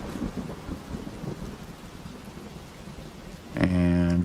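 Steady rain pours throughout a video game scene, a dense even hiss with soft rumbling underneath, then a louder tonal game sound cuts in near the end.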